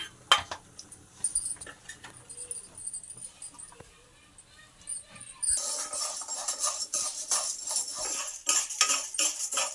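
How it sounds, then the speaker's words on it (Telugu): Urad dal fries in a little oil in a pan while it is stirred. Quiet clinks give way to busy, continuous spoon scraping and metallic rattling against the pan. "ముందు మినపప్పు వేయించుకోవాలి కొంచెం ఆయిల్ వేసి వేయించుకుందాం"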